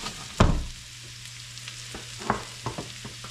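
Mushrooms cooking in olive oil with garlic in a pan, a steady close sizzle with a sharp stirring clatter near the start and a few lighter scrapes and taps after.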